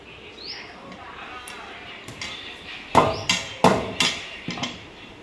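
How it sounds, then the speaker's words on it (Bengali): Hog plums are chopped with a cleaver, several sharp, separate chops landing a second or less apart near the end, following quieter taps over a low background with faint bird chirps. "এই যে তোমাদের দাদাভাই আমড়াগুলোকে কেটে দিতে বললাম, এই যে কাটারি দিয়ে কাটছে"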